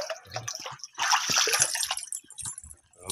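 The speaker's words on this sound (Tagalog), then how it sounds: "kumukulo yung kanyang tubig" Hot spring water in Capas, Tarlac, bubbles and sloshes close by in short gurgling bursts, with brief splashy pulses.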